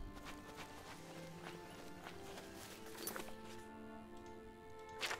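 Faint horse hoofbeats clip-clop in an irregular gait over a low background in The Elder Scrolls IV: Oblivion, with a few sharper impacts near the end.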